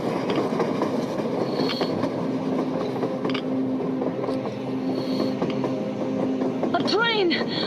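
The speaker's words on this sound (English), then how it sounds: "A train! A damn train on the surface!" In the game Metro Exodus, a train rumbles past on the surface, a steady loud rolling roar with rhythmic clatter of wheels and a rising metallic screech at the end.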